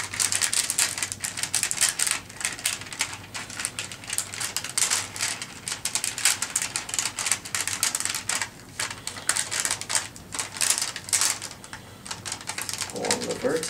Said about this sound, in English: Creasing the tops. And once creased, folding them together.